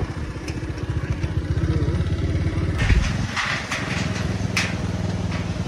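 A motorcycle riding across a bridge: a close, pulsing engine putter runs throughout, with a few sharp rattling clatters partway through as the bike jolts over the deck.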